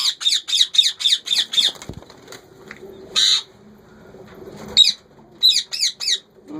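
Ringneck parakeet chicks give loud, harsh squawks in quick bursts, a rapid run of six at the start, then isolated calls and a final cluster of four, close by with quiet pauses between.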